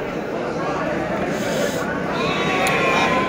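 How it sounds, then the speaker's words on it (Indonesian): Priangan sheep bleat at the Tanjungsari livestock market, their cries partly buried in a dense wash of crowd chatter and market noise. "Domba-domba Priangan."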